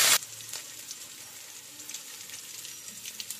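Cumin seeds, three green chilies and a bay leaf hit hot oil with a sharp loud crackle, then settle into a steady, fainter frying sizzle with small pops.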